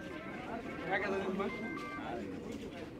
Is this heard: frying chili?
no